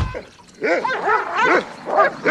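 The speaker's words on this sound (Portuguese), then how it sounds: "será que esses cães não vão parar de latir?" Several sharp dog barks and yelps in a quick, uneven series, fairly close, after a brief quiet start.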